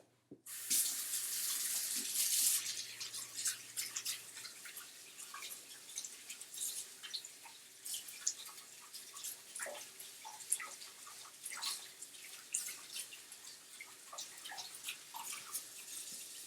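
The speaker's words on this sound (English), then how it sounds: "Just going to clean up these hands." Hands washed under a running kitchen sink tap with hot water, a steady broad splashing stream that starts abruptly and continues close and fairly loud, with small drips and shifting splashes throughout and no talking.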